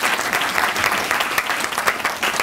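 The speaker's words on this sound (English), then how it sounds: "I think we should give him a round of applause" Loud, dense audience applause at a memorial lecture, continuous crowd clapping with sharp individual claps standing out, lasting the whole moment.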